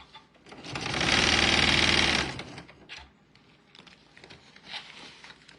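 A sewing machine topstitches fabric for a car trash can, running in one loud fast whirring burst of about a second, then dropping to softer rustling and handling of the cloth.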